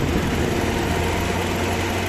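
Engine of a 2017 Kia Rio 1.4 with automatic transmission, high mileage, running steadily at idle with a constant low drone and even hum.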